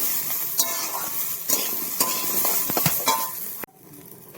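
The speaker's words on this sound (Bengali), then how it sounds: "ভালো করে কষিয়ে নেবো, ভেজে নেবো ভালো করে" Ground spice paste fries in a pan for a small carp fish curry, with a continuous close sizzle broken by repeated scraping stirs and metal clinks. The sizzle drops away abruptly near the end.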